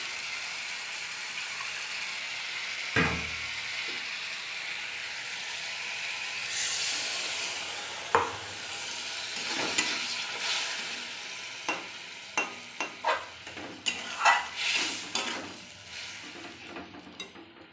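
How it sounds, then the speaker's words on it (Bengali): Ginger and garlic paste fries with softened tomatoes in a pan: a constant close sizzle under sharp spoon scrapes and taps that grow more frequent toward the end. "টমেটো নরম হয়ে গেছে, টমেটো দিয়ে দিলাম আদা আর রসুন পেস্ট।"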